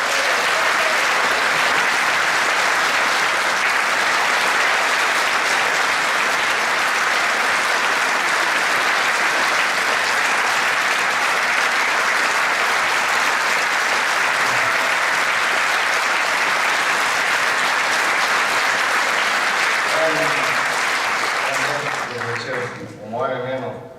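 Sustained loud applause from a large concert audience honouring a musician at a big band concert in Bled, dense and unbroken for over twenty seconds before fading, with voices emerging at the end.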